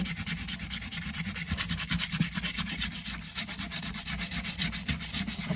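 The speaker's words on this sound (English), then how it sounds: "A little bit of sanding to do." Steady, continuous sanding on a wooden fish carving, a dry rhythmic rasping that goes on without pause and with no talking.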